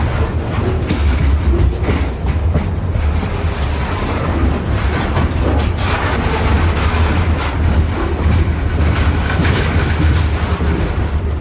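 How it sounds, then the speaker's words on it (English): A train's cars roll off street-running track and back onto ballasted track as it picks up speed: a loud, steady, close rumble with continuous wheel clatter throughout. "Cars roll off street running and back onto ballasted track as the train picks up speed."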